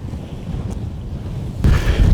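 Strong wind buffets the microphone at Goose Island State Park on Aransas Bay, Texas, a low rumbling roar that grows noticeably louder and harsher in the final half-second.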